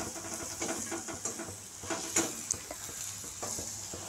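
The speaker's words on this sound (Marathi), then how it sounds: "2 चमचे किसलेलं खोबरं मिक्स करूया।" Grated coconut being stirred into a potato and pea curry in a pan, with a spoon scraping and tapping in irregular strokes over a soft sizzle, close and moderately loud, no talking.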